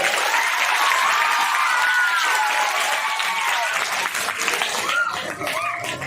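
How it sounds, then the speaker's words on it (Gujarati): A crowd at a primary school costume show in Antroli applauds a child, with sustained loud clapping mixed with cheers, calls and children's voices throughout. "તાળીઓ પાડો ભાઈ એના માટે"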